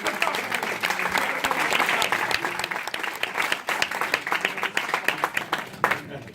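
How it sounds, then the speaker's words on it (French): Audience applause after a magic trick at a live magic show in Liège, a dense wash of many hands clapping steadily, loud and close, then thinning toward the end. "Je pense qu'on peut applaudir. On peut applaudir."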